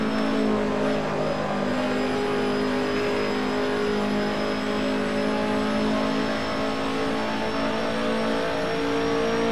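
A race-prepped BMW's engine drones and revs steadily at the Nordschleife in the Assetto Corsa racing game, loud and continuous with no talk over it.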